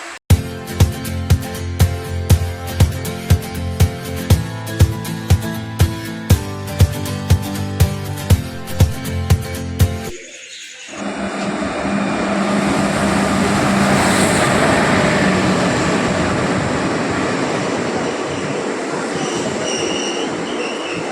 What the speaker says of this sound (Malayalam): വഞ്ചിനാട് എക്സ്പ്രസ് കോട്ടയത്ത് വന്നു, അതിനാണ് യാത്ര പോകുന്നത്